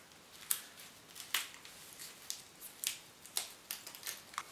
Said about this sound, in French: Donc tout simplement pour les mains, je vais également scotcher au poignet.